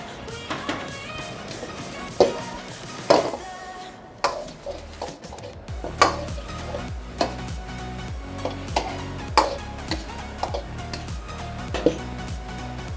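Fried chicken pieces and vegetables tip into a sauce sizzling hard in a pan for an Arabian chicken sizzler, with a loud steady hiss and repeated sharp clanks of a spoon stirring against the metal.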